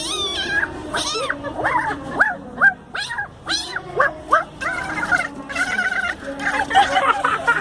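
A person vocally imitates a fight between a cat and a dog in Soledad, Atlántico, with a rapid, close string of yowls, meows and yelping barks, rising and falling for several seconds without pause.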